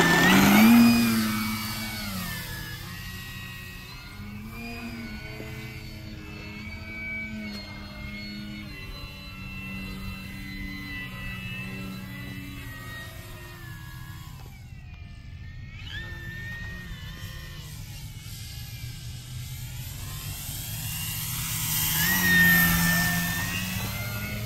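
Flex Innovations Cap 232EX 60E electric 3D aerobatic RC plane flying, its motor whine steadily rising and falling in pitch as it manoeuvres, moderately loud and sustained with a swell near the end.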